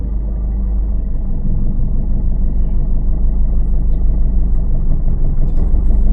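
Steady low car engine hum and rumble from inside a car during a driving lesson, first gear engaged, running continuously and fairly loud with no break.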